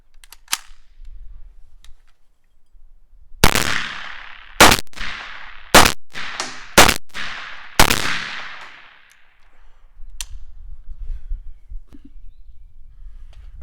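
Five sharp, loud 9mm shots come from a PSA AKV fitted with its factory compensator. They are fired at irregular intervals about a second apart, each followed by a brief ringing decay outdoors.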